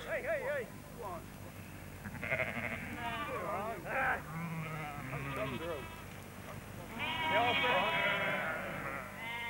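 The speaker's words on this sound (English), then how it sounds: "bringing out their sheep after being penned in for safekeeping during the festival" Sheep on a farm near the Glastonbury festival bleat repeatedly as they are let out of their pens, several quivering calls at moderate distance, partly under a calm spoken voice.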